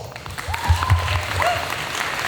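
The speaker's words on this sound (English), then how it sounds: "please give yourselves a big round of applause" A large crowd at a wedding reception claps in brief, moderately loud applause under the room's background murmur and a faint voice.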